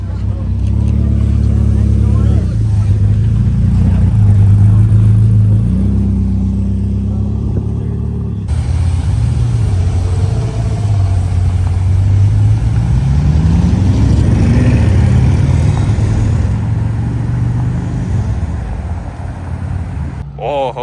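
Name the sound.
Ferrari F40 supercar driving in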